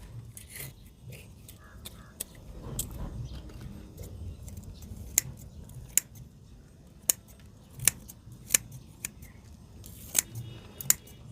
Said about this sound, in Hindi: ये देखिए हमने काट दिए हैं, इतना ही काटेंगे, इससे ज़्यादा और नहीं काटेंगे।